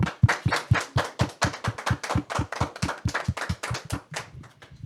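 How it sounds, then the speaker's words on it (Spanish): Loud applause from a gathering welcoming Yareni at a Catholic faith talk session, a steady run of dense claps that thins and fades near the end. "Pedimos a Yareni con un fuerte aplauso"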